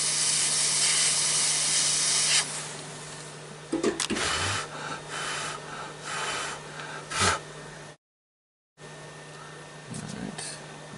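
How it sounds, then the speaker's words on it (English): A heat shrink gun blows hot air onto heat shrink tubing with a steady broadband hiss that changes as it is moved around, followed by a brief silence and then more hissing. "give that little heat with the heat shrink gun, just to melt the heat shrink into place"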